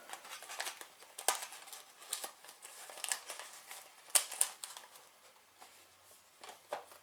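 Plastic vacuum sealer bag roll sliding and crinkling through a dispenser box with a slide cutter, soft close rustles and light crackles in irregular bursts, fairly quiet and with no talk.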